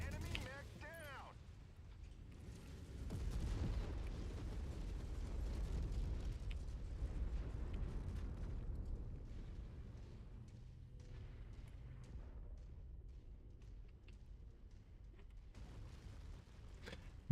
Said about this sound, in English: Don't know why I took that explosion in my face, but I did.